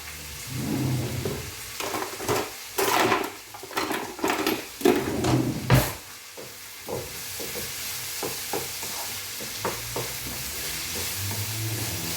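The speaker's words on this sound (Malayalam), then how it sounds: "ഇതെല്ലാം കൂടെ ഒന്ന് വഴുക്കിയെടുക്കണം നന്നായിട്ടൊന്ന് വഴറ്റണം" Vegetables sautéed in a hot pan, with steady sizzling under repeated stirring strokes and scrapes of a spoon against the pan, close and moderately loud, the stirring growing lighter toward the end.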